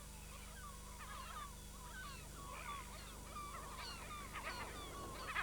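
Dominican gulls call from their colony on a grassy hill near Rotorua in New Zealand, giving a steady chorus of repeated harsh, honking cries over a low background rumble.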